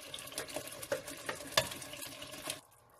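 Ground mustard greens for saag are stirred in a cooking pot, with a dense, wet scraping and mushy churning that comes close and steady before stopping abruptly near the end.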